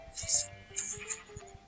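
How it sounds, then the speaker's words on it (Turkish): Sheep bleating in the video game Minecraft during a survival session: a few short, wavering bleats in quick succession, fairly close and moderately loud, with no talk over them. "Hemen koyunlarımız gelmiş zaten."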